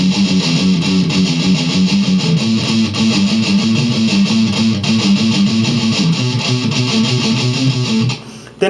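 Electric guitar, lightly distorted, plays a repeating riff pattern slowly for a guitar lesson, a steady chugging run of low notes that continues evenly and alone before cutting off near the end.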